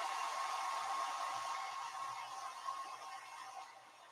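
A cheap thrift-store blow dryer blasts air onto a shirt in one continuous close whoosh that eases slightly over a few seconds, with no talking.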